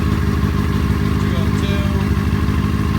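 A stock car engine idles at about 2,000 RPM with the cooling fans off, giving a steady, loud mid-range drone that fills the whole stretch without a break.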